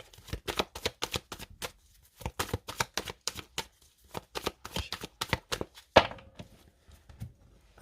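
Tarot cards are shuffled by hand in quick bursts of sharp clicking flicks, close and crisp with brief pauses between runs, then a single louder slap as the deck is cut.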